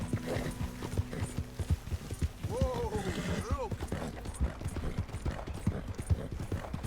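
Horse hooves clip-clop in a steady, quick rhythm in the video game Red Dead Redemption 2, with a loud whinny rising and falling midway over low background sound.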